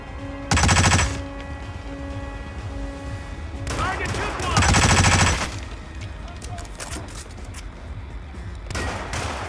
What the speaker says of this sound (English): only people who are left are the people who are shooting at me